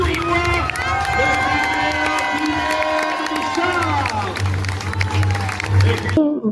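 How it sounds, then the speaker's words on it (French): A crowd cheers and applauds a tournament champion at a medieval fair, the roar swelling beneath a loud announcer's voice and continuing with scattered shouts toward the end. "Acclamez notre grand champion de ce tournoi"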